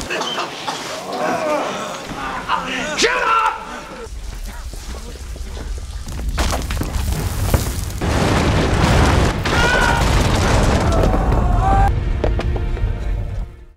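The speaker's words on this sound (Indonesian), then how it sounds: "si Kupluk yang bertato ini akan meledakkan beton yang sebenarnya adalah segel kuno" A film explosion blasts apart a concrete seal inside a cave, a deep boom that swells into a long, heavy, rumbling roar of collapsing debris after brief scattered noises.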